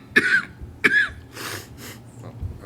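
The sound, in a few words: person coughing at a meeting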